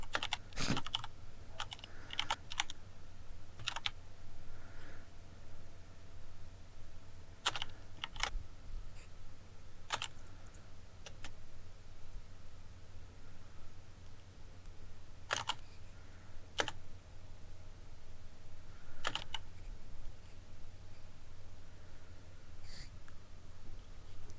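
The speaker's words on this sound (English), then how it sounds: "Very nice keyboard, by the way." Intermittent clicks and short bursts of typing on a computer keyboard, fairly faint and close, scattered across a quiet room with long pauses between bursts, no talking.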